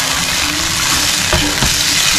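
Loud, steady sizzling of tocino frying in a pan with pineapple juice, close up, with a couple of brief scrapes of stirring.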